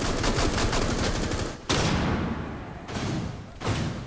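Gunfire from the Rainbow Six video game, with rapid automatic bursts close and loud at first, then a single sharp report followed by fading echo and two more abrupt shots.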